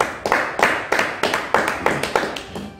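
A church congregation claps for Jesus in a steady rhythm of about nine even claps, close and fairly loud, with no talking.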